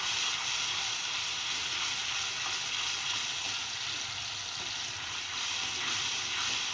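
Spices and red chili sizzle steadily with tamarind pulp in a pan, a constant bright frying hiss that runs unbroken without talk, for khatte aloo.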